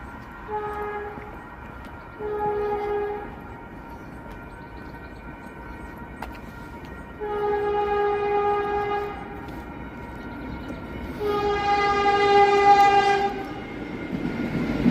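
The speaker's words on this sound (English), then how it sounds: "Caltrain, I believe, is a completely electric train." An electric Caltrain passes close by in Burlingame, sounding loud repeated two-tone horn blasts over a steady rolling rumble from the cars.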